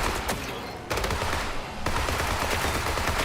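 Rapid bursts of video game gunfire rattle close and loud in a shooter match. Two short pauses break up the automatic fire.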